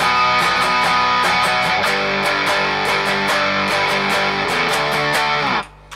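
A heavily distorted electric guitar plays the loud chorus riff of a song, with sharp rhythmic chugging chord hits for several seconds before it stops abruptly.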